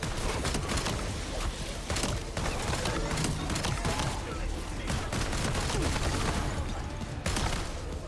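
Video game gunfire on Mars, rapid bursts of shots and fusillades crackling continuously over several seconds with mechanical clatter, with a faint voice partly under the shooting.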